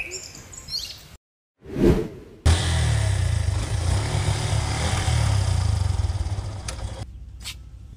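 The engine of a new motorcycle runs steadily and close for several seconds before cutting off, following a brief whoosh and a short silence.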